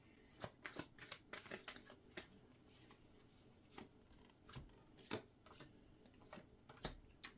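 Tarot cards are shuffled close by, a quiet stream of soft riffling flicks and taps with irregular rhythm and no talking.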